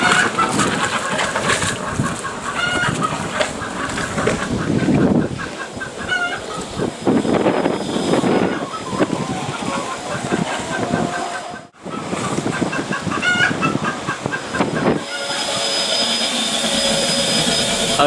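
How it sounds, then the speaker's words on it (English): A loud aquarium filter air pump runs continuously, producing a harsh, steady whirring and bubbling roar that stays close and strong for the whole stretch, with faint voices underneath. "that air pump is doing a great job. I'll just turn it off because it is quite loud"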